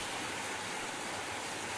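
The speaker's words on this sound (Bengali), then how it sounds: "আর তারপর নামলো ঝমঝমিয়ে বৃষ্টি।" Heavy rain pours steadily in a cartoon storm scene, a dense, continuous hiss filling the short stretch with no voices over it.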